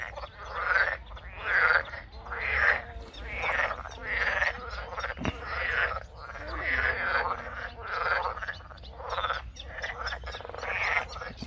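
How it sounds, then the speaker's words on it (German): A chorus of many frogs croaking together outdoors, loud rhythmic pulsing calls repeating steadily about once a second without pause. "Das ist ein Froschkonzert. Alles voll Frösche da."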